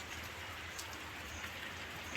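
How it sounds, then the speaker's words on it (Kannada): Steady, soft patter of rain falling on surfaces, an even wash of drops with no voices. "ಮಳೆ ಬರ್ತಾ ಇದೆ ಚೆನ್ನಾಗಿ ಮಳೆ ಬರ್ತಾ ಇದೆ"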